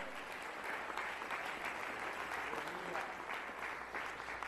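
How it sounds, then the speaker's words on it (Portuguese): A church congregation applauds at a sermon, a continuous wash of many hands clapping that sounds faint and distant and stays steady for several seconds. "Dá até para aplaudir Jesus mais uma vez?"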